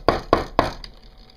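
Sharp knocking on a hard surface: three loud, evenly spaced raps followed by a softer fourth, heard alone with no talk.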